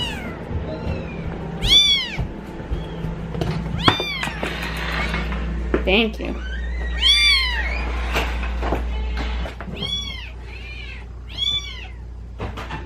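Several young kittens meow repeatedly in high, insistent cries, close and loud, among soft knocks and rustling on a farm, with a low hum underneath and a brief spoken word.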